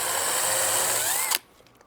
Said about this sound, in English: I'm pre-drilling my holes first so the board doesn't split